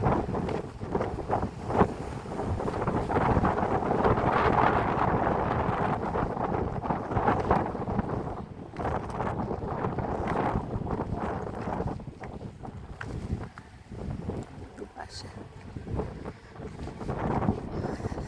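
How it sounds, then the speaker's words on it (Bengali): Strong evening wind buffets the microphone near Vivekananda Rock in heavy, roaring gusts that rise and fall for the whole stretch, with a faint wash of sea underneath. "এইবার সন্ধে হচ্ছে তো জোরে জোরে হাওয়া দিচ্ছে।"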